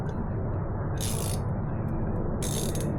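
A ratchet loosening the front wheel screws on a 2023 Ducati Panigale V4S, heard as two short, close bursts of rapid clicking over a steady broadband background hum.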